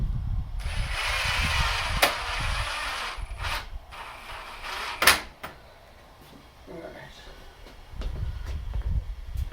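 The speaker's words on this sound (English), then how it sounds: "we're going to run a screw in through that hole just to keep it pinned on our mark inside on the brick" A power driver runs a screw through a recycled faux shutter into brick, with a few bursts of close mechanical whirring and clicking followed by quieter handling noises.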